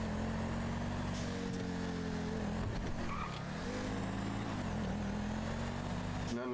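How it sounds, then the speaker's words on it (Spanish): A car drives in the FiveM video game, with a steady engine drone whose pitch rises and dips, a brief tire skid, and people talking over the sound throughout. "Estamos en el mismo coche ahora mismo."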